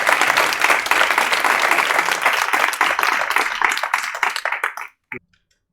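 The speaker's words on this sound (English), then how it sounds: "this is the first occasion we need to make your hands clap" A conference audience claps loudly as a speaker is called up to the stage, a dense burst of applause that thins into scattered claps and stops after about five seconds.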